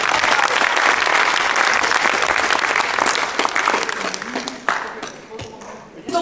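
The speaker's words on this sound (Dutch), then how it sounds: "applaus." Audience at a comic book festival in Breda applauding a prize winner, loud dense clapping that thins and fades into scattered claps and murmuring voices near the end.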